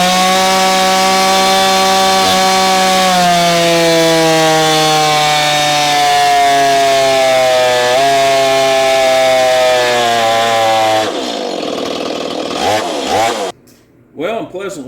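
A lightly ported Stihl 025 MS250 clamshell chainsaw runs loud and close with a strong, buzzing engine note whose pitch dips and wavers as it cuts wood, then breaks into rougher, uneven revving near the end.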